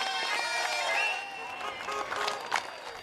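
A street crowd applauds front-line carers during England's Covid-19 lockdown: many hands clap steadily in the open air, with scattered cheers, whistles and raised voices mixed through the continuous patter.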